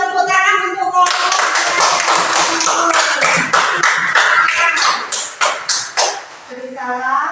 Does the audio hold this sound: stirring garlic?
no